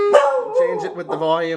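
A dog howls along with a 1978 General Electric clock radio alarm, a drawn-out, wavering howl close by, with a person speaking over it.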